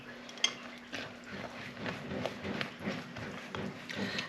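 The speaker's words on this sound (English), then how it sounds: "So I'm just going to mix that all in." Spoon stirring salt through a pot of broccoli and cheese soup, a steady scraping and clinking against the pan with soft irregular taps, close and fairly quiet.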